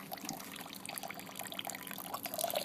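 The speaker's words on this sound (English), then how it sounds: "we're going to do the Vorloff, which basically is draining little by little here" Wort drains slowly from a mash tun during the vorlauf on a home IPA brew day, a soft, steady liquid trickle and pour that stays faint and continuous throughout.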